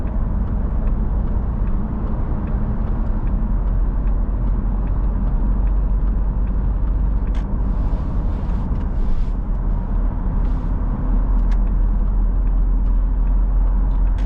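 Steady low rumble and whir inside a 2015 Citroën C5 2.0 HDi 140 diesel car while driving, a constant engine and road drone at even loudness with no talking.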